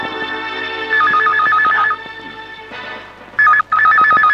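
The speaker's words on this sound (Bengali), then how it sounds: "ফোন।" A telephone rings with a warbling electronic trill in two bursts, loud and close, over a faint music bed.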